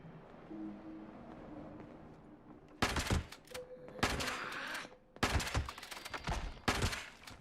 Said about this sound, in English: It's so weird firing a gun like this. It makes very little sound, putting the silencer on it like that.